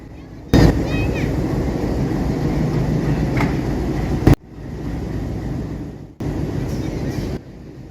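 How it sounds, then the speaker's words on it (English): Loud, continuous rumble and clatter of trains at a busy railway station, a steady roar that cuts off abruptly, then resumes more quietly. "Auntie, there are so many trains here"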